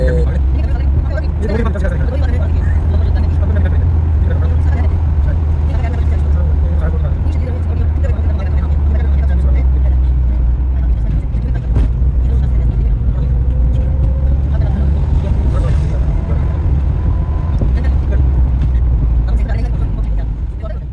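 A car driving slowly along a mountain highway in the Hunza Valley region, a loud, steady low engine and road rumble that runs throughout while someone talks over it.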